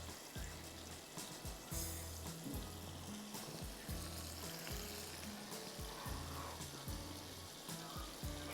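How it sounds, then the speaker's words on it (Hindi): Cajun chicken tenders frying in hot oil in a single layer, a steady quiet crackling sizzle running throughout, with faint low background hum. "सिंगल लेयर में मुझे इनको फ्राई करना है।"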